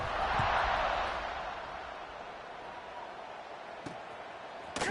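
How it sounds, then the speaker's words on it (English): A stadium crowd buzzes in the College Football 26 video game, a steady broad roar that swells early and then settles, with a couple of faint thuds near the end. "this crowd is buzzing after that last score"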